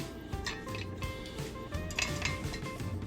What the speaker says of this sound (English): Now I will stack this one on top of this